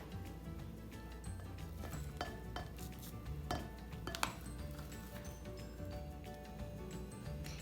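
Dishes and cutlery clatter and clink in a kitchen while butter goes into a mixing bowl for chocolate chip cookies, with scattered light knocks and chinks over steady background noise, no talking.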